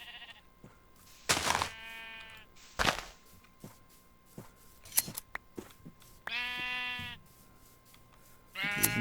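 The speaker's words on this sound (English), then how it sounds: "There's another sheep." Sheep in a Minecraft modpack game give several distinct bleats spaced across the stretch, mixed with clicks and small game thumps, clear and close with no talking.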